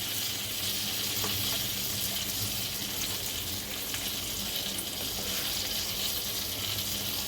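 Turmeric, coriander and cumin powder frying in a pan, a steady close hiss and sizzle of hot oil that holds evenly throughout with no voices.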